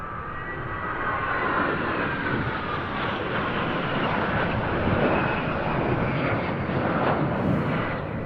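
Patrulla Aguila's ageing C-101EB Aviojet jets flying an airshow display, a loud, continuous jet roar with a sweeping whine that builds and holds as the aircraft pass, with no talk over it.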